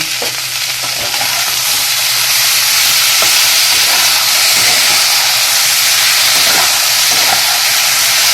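Green tomatoes fry in a pan while being stirred, giving a loud, steady sizzle and hiss with occasional scraping stir sounds throughout.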